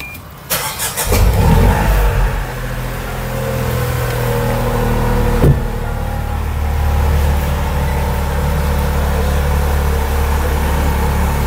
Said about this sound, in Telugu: మీరు లైట్గా యాక్సిల్ థ్రోటల్ ఇస్తున్నప్పుడల్లా మీకు స్పోర్టీ సౌండ్ అనేది వస్తుంది ఎగ్జాస్ట్ నుంచి